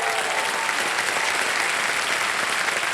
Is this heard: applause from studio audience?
yes